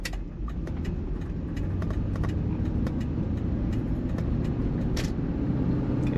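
Ford Expedition with a 5.4L Triton engine and a misfire, accelerating lightly, a low steady engine drone with rough uneven ticks and knocks heard from inside the vehicle.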